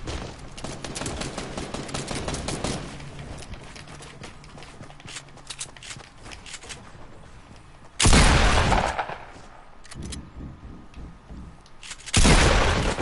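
Rapid bursts of gunfire from a multiplayer shooter video game, with dense crackling volleys early, then two loud blasts of sustained fire later, ending abruptly.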